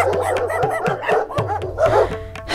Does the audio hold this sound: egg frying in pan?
no